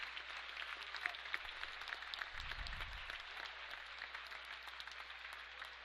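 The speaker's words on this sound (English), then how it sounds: "You hear a cheer from the crowd saluting our armed forces" A crowd at an NCAA Sweet 16 men's basketball game between Nichols College and Amherst claps and cheers to salute the armed forces, steady applause heard at a distance under arena noise, with a low thump partway through.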